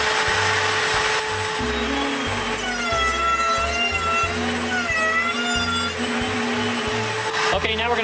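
Power tool cutting deeper slots for oak splines in reclaimed wood, a loud steady whine and grinding drone with shifting pitch as the cut progresses, near and continuous.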